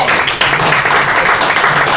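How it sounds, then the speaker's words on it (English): A ministry gathering's audience claps for a district leader, a dense, loud and continuous roar of hands filling the room, steady throughout the short stretch with no voices standing out. "Harry Rodriguez, please give him a big round of applause."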